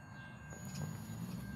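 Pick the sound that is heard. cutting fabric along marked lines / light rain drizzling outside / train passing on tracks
train passing on tracks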